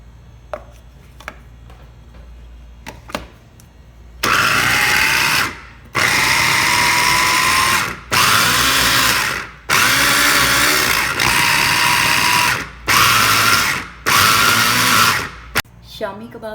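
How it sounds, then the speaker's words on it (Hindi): Electric chopper blitzing shami kabab mixture in loud, close bursts, about six runs of a few seconds each separated by short pauses, after a few light clicks and knocks at the start. "अब हम शामी कबाब के मिक्सचर को चॉपर में डाल के चॉप कर लेंगे।"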